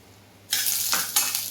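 Roasted corn is sautéed with onion, garlic and masala in a hot pan, starting with a sudden loud sizzle and followed by stirring sweeps that hiss and surge up close.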